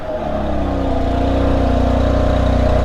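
A 2018 BMW M4 with its S55 engine runs steadily at close range, a loud, even mechanical drone with a deep pulsing exhaust note held throughout before cutting off sharply at the end.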